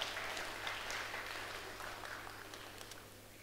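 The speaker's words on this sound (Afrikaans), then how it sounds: "Dames en heren, geef vir hierdie boute groot hande klap." Audience at a children's church service clapping, a faint, steady wash of applause from a crowd that slowly fades, with a low hum underneath.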